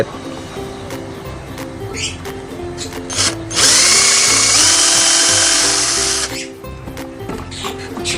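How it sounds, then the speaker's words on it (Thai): An electric drill with a roughly 2 mm bit bores into wood for a DIY camping cooler stand, giving one loud, steady whirring burst of about two and a half seconds between quieter handling noises. "ใช้สว่านเจาะลงไปสว่านก็ประมาณสองมิลนะ"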